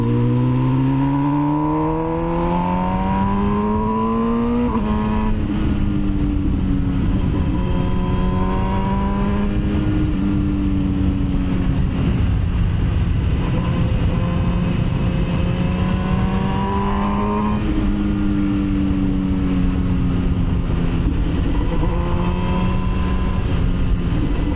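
An MV Agusta Brutale 1000 RR motorcycle ridden on the Assen circuit, its engine loud and close throughout, rising and falling through gear changes with repeated upshifts and throttle sweeps under steady wind rush.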